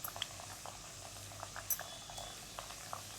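Small puris fry in hot oil with a faint, steady bubbling sizzle and scattered soft pops, close but quiet, with no talk.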